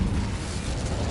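The Incendio fire spell in Hogwarts Legacy goes off as a short, dense blast with a heavy low boom and broadband roar that holds steady for about a second.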